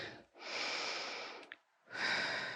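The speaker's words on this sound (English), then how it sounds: "staying with that nice deep breathing" Deep, slow breaths during a full body and core workout stretch: a long close exhale, a short pause with a faint sniff, then another strong breath, loud and unaccompanied by talk.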